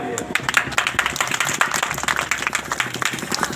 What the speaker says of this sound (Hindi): तालियां बजाते चलिए।